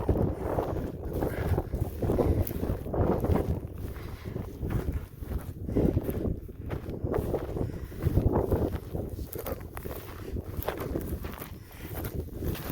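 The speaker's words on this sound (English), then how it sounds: "The wind's starting to pick up." Wind buffets an outdoor microphone among the St. Clair ruins, producing a continuous low, rough rumble that swells and eases in gusts across the whole stretch, with no talking.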